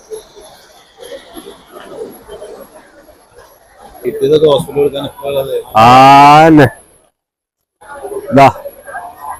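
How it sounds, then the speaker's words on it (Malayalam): A loud, drawn-out bull moo rings out close by at a cattle market, preceded and followed by people talking and faint bird calls. "നല്ല കാള"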